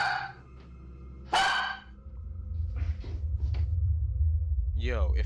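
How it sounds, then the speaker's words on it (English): A dog barks in sharp bursts in a house where creaking footsteps sound on the stairs. The barks are scattered over a low rumbling background, and voices talk over them. "Each time the creaking was heard, the dog began barking."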